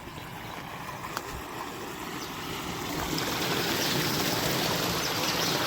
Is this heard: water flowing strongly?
yes